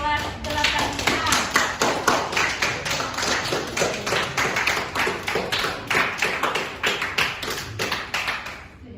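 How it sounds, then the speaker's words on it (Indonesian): Students of class 8A clap together in a classroom during an Indonesian language lesson, a loud, rhythmic series of sharp hand claps close by, beating steadily for several seconds. "Tepuk tangan buat kelas 8A."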